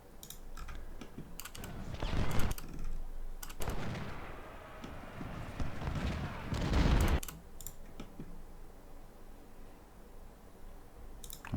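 Musket volleys in a Civil War strategy game at Malvern Hill, crackling bursts of massed fire in a few clustered rattles over a steady background, with a voice talking faintly now and then.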